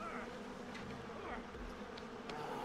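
Buzzing bees swarm around a beehive in the caveman-era game Far Cry Primal, a steady insect drone lasting the full clip with a few brief higher chirps over a dense background.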